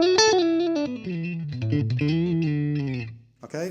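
Clean electric guitar, a Music Man Cutlass on the neck-middle pickup position through a Roland Blues Cube amp, playing a short melodic phrase of sustained single notes and bends, close and clear, with no voices.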